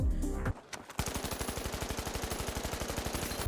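A light weapon in the shooter game The Finals fires a fast, even stream of automatic shots at close range, a steady rattling burst that follows a brief loud sound and a short pause.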